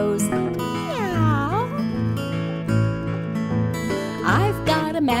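A person vocally imitates a cat's meow in a sing-song children's rhyme, two or three drawn-out, sliding mews over steady background music, close and clear.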